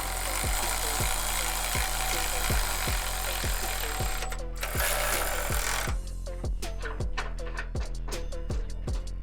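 A power tool, likely an impact driver, tightens rock slider bolts on a Toyota Tacoma with steady rapid rattling hammering, close and continuous, over a constant background hum.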